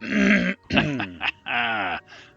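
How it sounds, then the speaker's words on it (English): A person makes rough, gravelly throat-clearing noises in three or four harsh bursts, close and loud, with a short gap between each. "Me clearing my throat."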